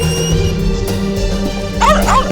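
A dog barks and yips in a scene from a Hindi CID crime drama, short bright calls near the end over a loud, busy background of music and ambient sound.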